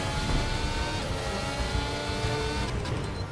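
Formula 1 race car engines in a racing game, a steady droning roar with shifting pitch from nearby cars on track, continuous and fairly quiet, with no talk.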